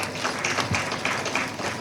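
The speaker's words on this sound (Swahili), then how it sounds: "Mumpigie makofi kaka Kusaga" A crowd applauds for Kusaga in steady scattered clapping, moderately loud and continuous, with faint voices underneath.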